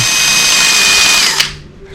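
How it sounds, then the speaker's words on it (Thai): A power drill fitted with an 18 mm diamond bit bores into floor tile, a loud high whine grinding steadily for over a second before abruptly stopping and winding down. "เจาะลงไปที่กระเบื้องก่อน เพื่อนำทาง กระเบื้องจะได้ไม่แตกนะครับ"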